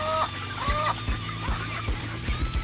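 Chickens cluck close by in a backyard poultry flock in Cebu, short repeated clucks in a steady uneven rhythm with one bird's higher call near the start, heard alone without talk.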